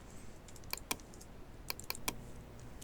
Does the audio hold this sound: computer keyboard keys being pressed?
yes